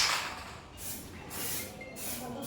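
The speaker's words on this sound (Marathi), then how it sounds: "स्प्रे आहे स्प्रे पेंटिंग" Three short bursts of hissing aerosol spray paint coat a homemade eco-friendly Ganesh festival decoration, each spray a close, bright hiss separated by brief quiet gaps.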